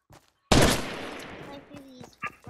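A single loud gunshot blast from Fortnite gameplay bursts in and decays over a second or two, followed by faint game sounds; a voice is briefly heard before it.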